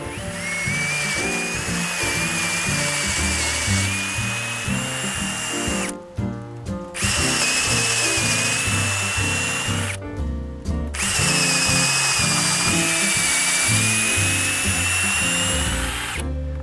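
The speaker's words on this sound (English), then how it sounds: "with this type of drill, because we're drilling so much" A power drill with a large bit bores through a wooden deck joist, a loud sustained grinding whine with heavy chattering low end, briefly easing twice as the bit is backed out and pushed back in.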